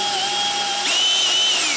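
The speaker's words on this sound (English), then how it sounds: "Put a little pilot hole in the middle here and that should be about the right size for the screws." A power drill bores a pilot hole into epoxy on a sailboat, its close, steady whine climbing in pitch partway through as the motor speeds up.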